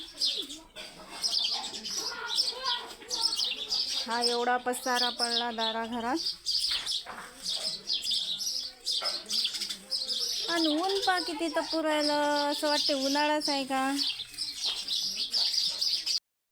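Small birds chirp and tweet busily in the background while someone talks at length over them; the chirping is steady and fairly close.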